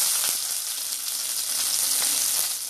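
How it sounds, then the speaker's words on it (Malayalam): Two small dried red chillies sizzle in hot oil in a pan while lemon pickle is being made. The frying is a steady, close, bright crackle with small pops, heard alone. "ചൂടായതിനു ശേഷം ഒരു ചെറിയ രണ്ട് വറ്റമുളക് ഇട്ട് കൊടുത്തിട്ടുണ്ട്"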